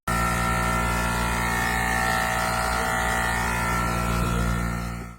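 Failing air suspension on a used Mercedes S-Class makes a steady, loud mechanical whirring drone, like a straining compressor motor, that runs unbroken for about five seconds and then stops abruptly, with no talking.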